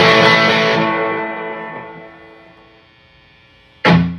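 A distorted electric guitar chord through a Marshall Origin 20H amp rings out loud and sustains with classic-rock overdrive, slowly fading, then a second overdriven chord strikes sharply near the end.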